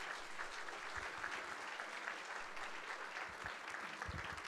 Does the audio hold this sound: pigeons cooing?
no